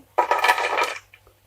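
Crispy fried masala peanuts rattling in a single short, dense burst lasting under a second, close and loud, followed by a couple of faint ticks.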